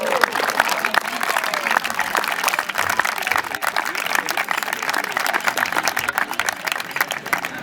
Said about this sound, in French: ça vaut vraiment un tonnerre d'applaudissements des parents